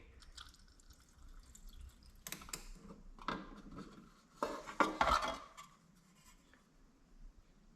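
Fluid dripping from a fuel tank line on a Polaris Trail Boss 330 ATV during transmission repair work: a handful of faint, scattered drops with small clinks, quiet and close, with no talking.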